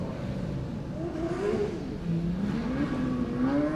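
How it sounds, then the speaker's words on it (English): An orange Formula Student race car from Dresden runs the skidpad, its engine revving in rising and falling whines as it circles, steady and fairly close with no voices. "I see there's another orange vehicle from Dresden lining up"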